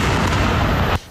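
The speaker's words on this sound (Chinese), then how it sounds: "看到哈马斯目标就发射炮弹" An Israeli tank fires a shell on a Gaza city street, a single loud, close blast with a rumbling roar that cuts off abruptly.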